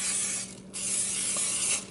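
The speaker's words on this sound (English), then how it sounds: "I'm gonna use my coconut oil cooking spray just to spritz so it doesn't stick." Coconut oil cooking spray hisses from a can into an open waffle maker in two short close bursts, bright and airy, with a brief pause between them.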